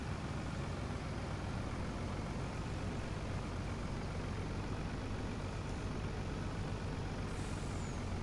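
A truck parking in the Farming Simulator 19 video game, with a steady engine rumble throughout and a brief air-brake hiss near the end.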